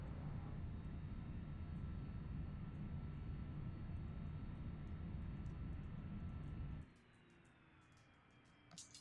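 Turboprop engines on a Cessna Super Cargomaster in the X-Plane 11 flight simulator spool down after the props are feathered, a steady loud broadband roar that drops abruptly to a much quieter whine and hiss near the end.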